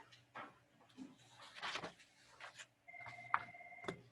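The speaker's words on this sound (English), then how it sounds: "Give me a minute, guys. Got a phone call." A telephone rings during a math class, giving a few electronic ring tones over the quiet room near the end.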